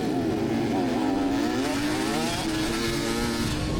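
A 2017 Beta dirt bike engine drones loudly and steadily at a motocross race in Richmond, Missouri, its pitch rising and wavering as the throttle varies, close by and continuous with no talking.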